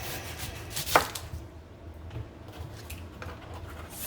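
A knife slices an onion into thin strips on a cutting board for a keto Halloween dinner, with soft repeated cuts and one sharper chop near the start.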